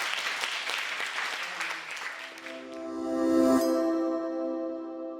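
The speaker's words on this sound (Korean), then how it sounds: "박수 쳐줘야 되는 거" Audience applause at a talk, a dense patter of clapping that fades into a sustained chime-like tone with no talking.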